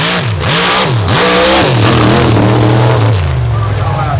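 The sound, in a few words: drag race car revving against the trans brake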